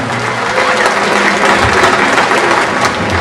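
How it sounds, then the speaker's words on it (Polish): A crowd applauds steadily and loudly at a team presentation of KMŻ Lublin speedway riders in a shopping gallery, dense clapping filling the space without a break and with no talk over it. "Wielkie brawa, Rafał"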